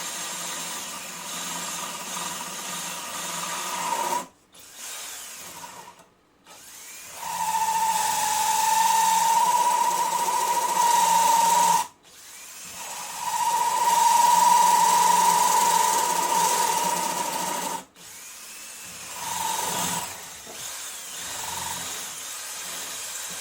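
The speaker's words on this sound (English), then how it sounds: "I've just remounted the vice at a slightly different place so I can just try and get this drilled carefully down to that hole there" A drill bores a hole in a metal part for a 2-inch scale Fowler showman's traction engine model, the part clamped in a vice. The drill gives a steady humming whine in several long runs separated by brief stops.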